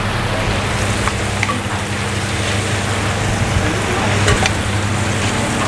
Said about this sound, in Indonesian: Ini kita goreng aja dengan suhu api medium kurang lebih 5 sampai dengan 10 menit